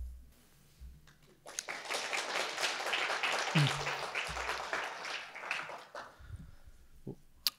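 An audience at a data-science conference applauds a speaker after his talk. The clapping swells in after a quiet moment, holds as a steady, moderately distant round, then tapers off into a few final claps.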